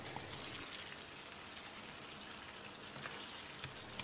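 Already-fried chicken goes back into a pan of hot oil and masala, making a faint, steady crackling sizzle with a few slightly louder pops.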